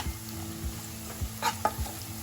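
Cumin tempering sizzling in hot oil for Mumbai vada pav, a soft continuous crackle with a few light spatters and utensil taps, close but fairly quiet.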